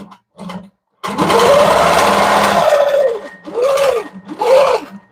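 A quilting sewing machine stitches in loud, close whirring runs, starting with two short bursts, then one long sustained run, followed by a few brief spurts with short pauses between them.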